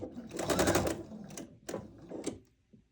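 A sewing machine stitches quilt triangles in a quarter-inch seam, one rapid buzzing run followed by two shorter bursts, close and fairly loud.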